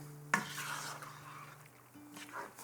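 Serving spoon stirring a ragu in a pan with the heat switched off, a sharp scrape at the start followed by soft, faint scraping and rubbing against the pan under a low steady hum.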